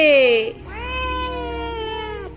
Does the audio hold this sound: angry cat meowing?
yes